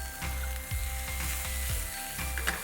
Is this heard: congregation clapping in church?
no